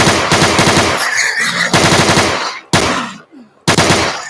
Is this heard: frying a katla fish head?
no